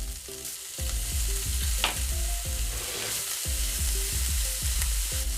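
Onions and peas sizzling in hot oil in a pan while being stirred for a mutton keema samosa filling, a steady close crackle broken by repeated scraping strokes of a spoon, with no talking.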